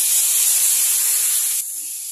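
Mustard paste for pabda fish hits a hot pan with a loud, steady sizzling hiss that holds for over a second and then drops to a softer, continuing fry.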